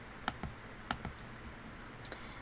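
Several light plastic clicks as numbers are keyed into a calculator, close and soft, with uneven pauses between presses.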